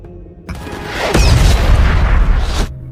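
A loud movie missile-strike explosion bursts in with a deep, rolling boom that rumbles for about two seconds before cutting off.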